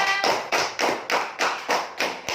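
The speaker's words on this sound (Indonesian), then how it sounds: "Tepuk tangan untuk kalian semua." Steady rhythmic hand claps in a classroom lesson on making cardboard masks, about eight even, crisp beats close by with no talk over them.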